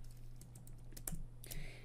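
Keys tapped on a Mac computer keyboard while entering shortcuts in Excel, a close, soft run of irregular clicks with a couple of slightly louder presses, no voices.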